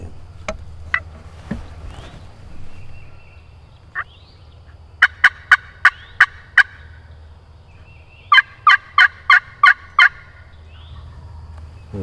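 Wild turkeys gobbling in the Mississippi woods, probably two separate birds: a few short distant calls, then two loud rapid bursts of five or six sharp gobbles each, ringing out over quiet outdoor background.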